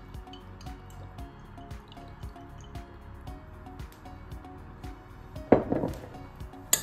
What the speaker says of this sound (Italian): aggiungo un goccio d'aceto per creare un pH acido e dell'olio extravergine d'oliva